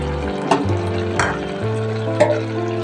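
Carrot halwa with soaked raisins is sautéed and stirred in a pan, three distinct scraping stirs over a soft sizzle, with background music throughout.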